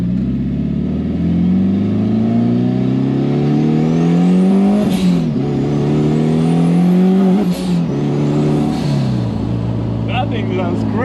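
A Toyota MR2 Spyder (MR-S) sports car engine revs loudly and repeatedly, the pitch climbing and dropping through several gear-like sweeps, close and dominant, with a voice briefly underneath.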